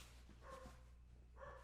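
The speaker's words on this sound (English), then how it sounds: "Oh, goddammit, the dog's barking." A dog barks twice in a short, fairly faint room recording, with two brief harmonic yelps about a second apart over a steady low background hum.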